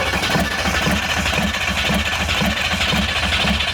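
A 1971 Chevy K10 truck engine turns over steadily, a loud, continuous rhythmic cranking pulse close by that holds without pause and never quite catches.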